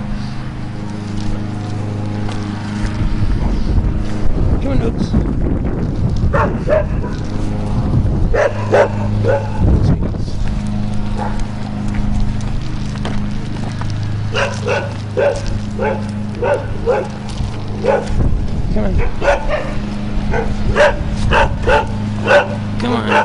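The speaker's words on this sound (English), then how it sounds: "Hella dogs in this alley." Several dogs bark, yip and whimper in an alley in repeated bursts. The barking is loud and close, over a steady low hum, while a person talks soothingly throughout.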